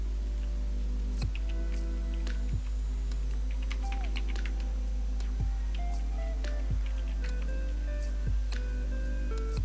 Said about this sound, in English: Type these commands one by one.